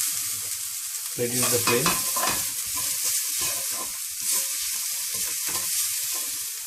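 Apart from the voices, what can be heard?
sautéing ginger, garlic and green chilies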